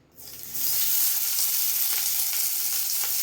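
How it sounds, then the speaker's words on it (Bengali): Chopped onion hits hot oil in a pan for a flat-bean mash, bursting into a loud, close, steady sizzle right after a brief quiet moment and holding to the end. "তেলের মধ্যে দিয়ে দেবো পেঁয়াজ"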